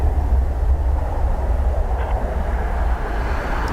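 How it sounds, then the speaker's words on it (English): A Qatar Airways Boeing 787 arriving at Dublin Airport rumbles loud and low, a steady engine roar with wind buffeting the microphone outdoors. "787 coming in from Qatar, QR 17, I believe"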